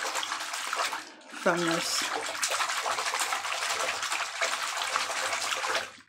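Bath water gushes steadily from a tap into a tub mixed with a candy-scented bath cocktail, a loud continuous rush close by, with a brief spoken phrase partway through.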